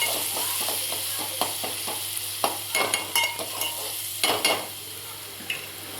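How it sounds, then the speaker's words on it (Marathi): A spoon stirs turmeric through a mung dal tempering of green chilli, garlic and coriander frying in a pan, with soft steady sizzling beneath a series of sharp scrapes and clinks against the pan. "आता हे आपण सर्व मिक्स करून घेऊया"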